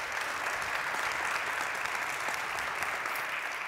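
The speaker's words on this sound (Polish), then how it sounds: "Wielkie gratulacje i brawa." Dense, steady applause from an audience at a business award ceremony fills the whole stretch, loud and even from start to finish with no voices on top.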